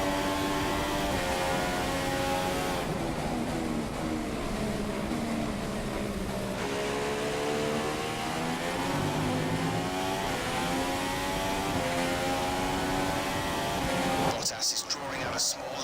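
A Formula One car engine from the F1 2015 racing game on the Malaysia circuit wails steadily, its pitch rising and falling through gear changes before cutting off abruptly near the end.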